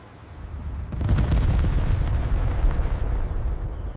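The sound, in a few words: explosion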